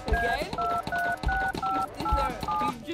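Telephone keypad tones sound in the video game Dr. Langeskov, The Tiger, and The Terribly Cursed Emerald, about seven evenly spaced dual-tone beeps in quick succession over background noise and thumps.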